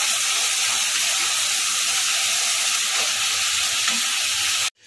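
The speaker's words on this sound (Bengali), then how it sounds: "মিনিট 5 সময় ধরে ভালো করে কষাবো" Spice masala for ghugni sautéing in a pan, a loud steady sizzle and hiss that runs throughout and cuts off abruptly at the end.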